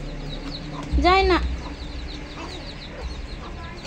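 A chicken lets out one loud, close rising-and-falling squawk amid a child's play around farm fowl, with people talking before and after it.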